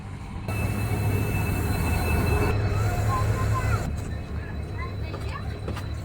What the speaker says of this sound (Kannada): ಈಗ ಟ್ರೈನ್ ಬಂತೀಗ